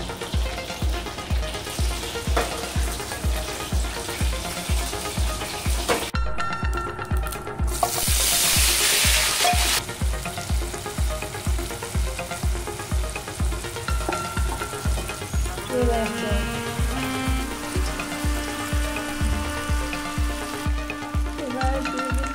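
Dal simmering in a pan with a little ghee gives a steady, close sizzle under a regular rhythm of stirring scrapes. A louder hissing burst swells partway through, and faint tonal sounds appear later. No one speaks.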